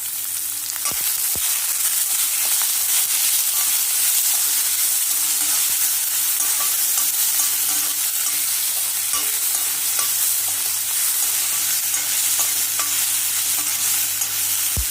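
Finely chopped onion with ginger-garlic paste fries in a pan for egg sambar, giving a steady, dense sizzle throughout, punctuated by occasional sharp scrapes and clicks of stirring.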